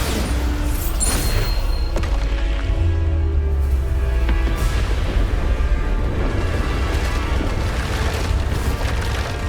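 Loud, continuous booming blasts with splintering debris from the Bombarda blasting spell in Hogwarts Legacy, thick low rumble sustained throughout with no talk.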